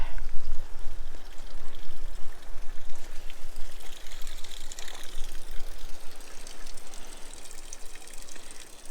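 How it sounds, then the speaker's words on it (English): Rushing creek water flows steadily and loudly close by, a churning, pouring wash that never lets up. "We are separated by the creek."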